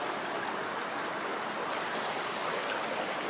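Steady, dense rush of pure water from a mountain stream in a valley in Uttarkashi, heard close and continuous with no voices over it.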